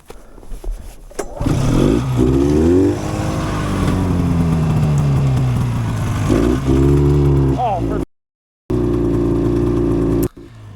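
A budget two-cylinder snowmobile engine runs loudly and revs up and down, with a steady roaring drone broken by one brief dropout before it resumes.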